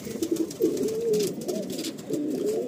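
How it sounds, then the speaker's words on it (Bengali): Madrasi pigeons coo in a loft, several soft throaty calls rising and falling close by over a quiet background, with no talking. "অজস্র পায়রা আছে, প্রচুর পায়রা আছে"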